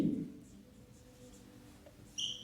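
Chalk or marker scratches across a classroom board during a beam shear stress lesson, short soft strokes with a brief higher squeak near the end, faint and close.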